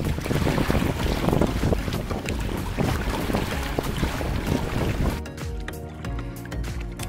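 Wind blows hard across the microphone while sailing a Hobie Tandem Island around San Pietro Island, with water splashing along the hull; the gusts drop off near the end.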